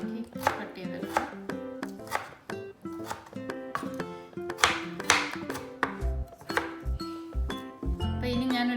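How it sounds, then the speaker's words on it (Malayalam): A knife chops tomatoes into small pieces on a board with quick, irregular taps, some clustered and some spaced out, over tuneful background music. "നമുക്ക് തക്കാളിക്ക് ഒരു 2 എണ്ണം ഇങ്ങനെ ചെറുതാക്കി കട്ട് ചെയ്തെടുക്കാം"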